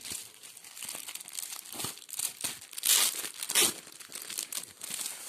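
Plastic packaging crinkles and rustles continuously as a newly bought headscarf is unwrapped, close and fairly quiet, with irregular louder crackles and small tearing bursts.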